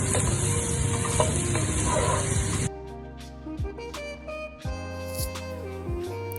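Raw rice being fried and stirred in a pan for hilsa pilau, a steady loud sizzle that abruptly drops away, followed by softer scraping and clinks of a spoon against the pot.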